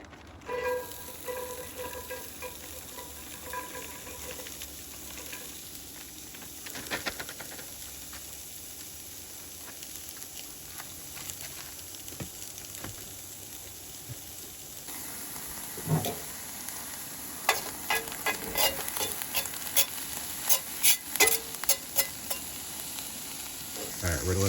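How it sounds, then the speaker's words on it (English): Onions sautéing in a pan at a truck campsite, a steady close sizzle throughout that grows busier and crackly in the later half, with scattered clicks of stirring. "we're going to saute some onions"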